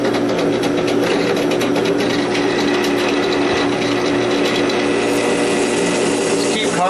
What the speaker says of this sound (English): I pull the drill up to let the chips clear